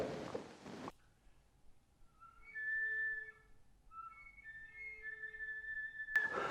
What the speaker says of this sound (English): So let's take a whistle tone on A.